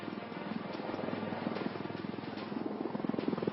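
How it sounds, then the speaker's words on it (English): A jet aircraft touching down on a runway, about to deploy a brake parachute for a short landing run, heard as a steady, broad distant roar with a faint pulsing rumble and no voices. "you're now seeing the aircraft touching down"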